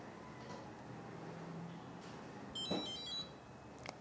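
A MakerBot Replicator Mini+ 3D printer gives a short electronic notification beep, faint and brief over quiet room tone, with no talking.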